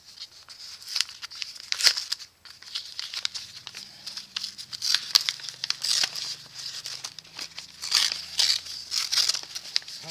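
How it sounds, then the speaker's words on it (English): A paper envelope holding small miter gauge spacers is torn and crinkled open, bursts of rustling and ripping coming in irregular close bursts, with a faint low hum underneath and no talk. "let's open the envelope up here and see what they mailed"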